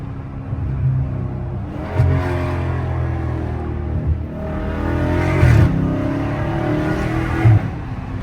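A Dodge Scat Pack weaves through traffic with traction control off, its engine droning loud and close with repeated surges of revving as it accelerates, a deep steady roar throughout.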